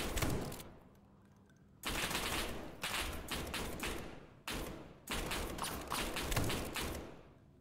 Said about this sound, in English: firing behind me